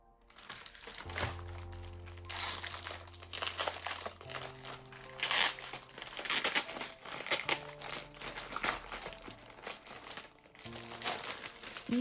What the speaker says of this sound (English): this is what the plastic roll looks like. Then I cut it to size and I use the sellotape to secure the edges at the back.